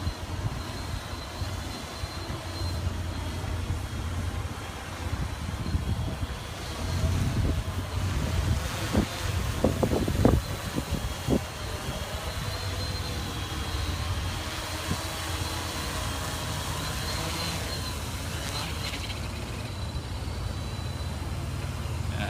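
Steady outdoor wind buffeting the microphone during a Blade Chroma drone flight, a continuous broadband rush with faint surf-like swells and brief gusts near the middle; no voices.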